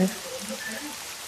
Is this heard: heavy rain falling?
yes